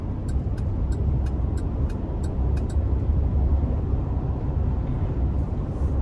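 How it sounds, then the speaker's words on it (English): A large GMC conversion van on the road gives a steady, loud low engine rumble with road noise, and a run of light rhythmic clicks sounds near the start. "For a vehicle this size, it accelerates for how fast you need it to go."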